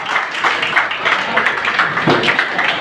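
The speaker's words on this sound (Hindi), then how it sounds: "एक बार अपने लिए भी तालियां बजाइए।" Audience clapping in a full hall at the closing and awards ceremony of a youth games event, a moderately loud wash of many hands with some uneven bursts, continuing throughout.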